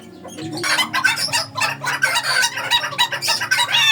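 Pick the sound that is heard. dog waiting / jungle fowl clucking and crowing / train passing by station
jungle fowl clucking and crowing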